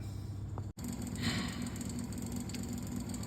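A small miniature air compressor feeding an artist's mini spray gun runs with a steady, droning hum throughout, broken by one brief dropout near the start.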